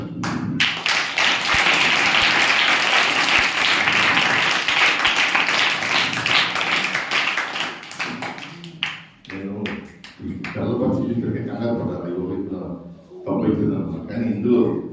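Audience clapping at a magic show reveal, a dense, loud burst of applause lasting about eight seconds before it breaks off and a voice carries on speaking.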